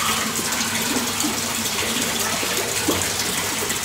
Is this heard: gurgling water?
yes